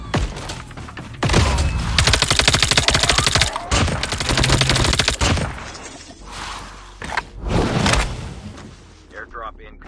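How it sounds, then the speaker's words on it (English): Rapid bursts of gunfire in a solo-versus-squad battle royale video game crackle through most of the clip, loud and dense, with a voice talking over parts of it. "Heard gunshots there, faintly in distance."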